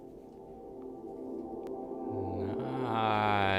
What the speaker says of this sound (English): Sounds really good when you double it up and reverse it.